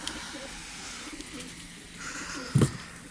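Pigeons on a snowy balcony in Ankara coo softly and shuffle as they eat feed, with a brief louder flutter near the end and no voices over them.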